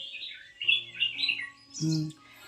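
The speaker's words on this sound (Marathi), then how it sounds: "पक्ष्यांचा आवाज बघा" Bird chirps and tweets ring out over a low steady hum, with a louder burst of calls near the end.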